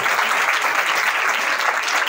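A church congregation applauds, dense and sustained clapping filling the room loudly throughout with no voices heard.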